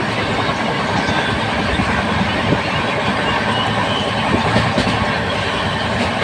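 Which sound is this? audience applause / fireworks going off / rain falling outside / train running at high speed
train running at high speed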